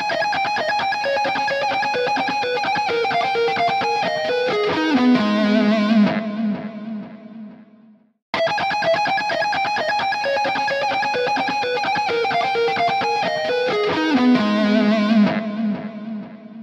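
A distorted electric guitar plays a fast, smooth sweeping lick, ending on a held bent note. The phrase is played twice, loud and close, with no talking.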